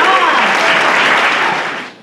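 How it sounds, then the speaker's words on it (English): A startup-pitch audience applauds loudly, a dense wash of clapping up close that fades out at the end. "All right, round of applause."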